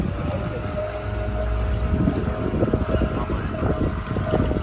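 A boat travels along the Kallada river near Kollam with a steady motor drone, lapping water and gusting wind buffeting the microphone throughout.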